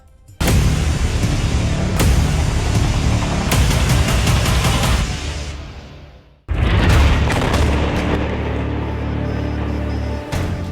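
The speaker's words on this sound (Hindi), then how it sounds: "इस धमाके ने ईरान के दिलो दिमाग को झकझोर कर रख दिया है" A massive explosion erupts into a sustained, roaring blast that fades, then a second powerful boom hits and rumbles on, loud and close.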